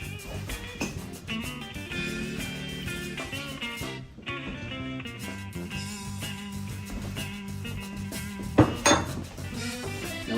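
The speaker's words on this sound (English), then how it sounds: "we're gonna go ahead and put the crayfish in here. We're gonna stir those in." Already-cooked crawfish tails are stirred into a pot over the heat for a Cajun crawfish pie, producing scattered clinks and scrapes of a utensil against cookware, with one sharper knock near the end.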